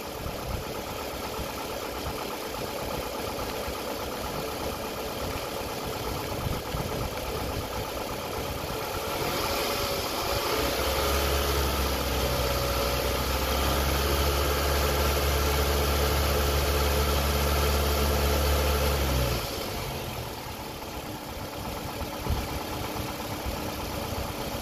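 A car engine idles, then is held at a raised speed of about 2500 RPM for several seconds during a charging test, giving a steady, louder drone before it drops back to idle, with no talking.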